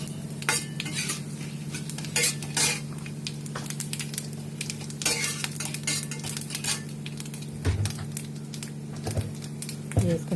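Cumin and fenugreek seeds fry in a pan for kottimeera pachadi, a coriander chutney, with faint sizzling, a steady low hum and scattered scraping clinks of a spoon stirring against metal.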